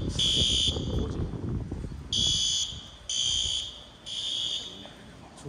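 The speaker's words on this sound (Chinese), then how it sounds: "里面火警，好吵。" A fire alarm sounds inside a building in repeated shrill beeping bursts, heard from nearby, with some muffled talk underneath the first bursts.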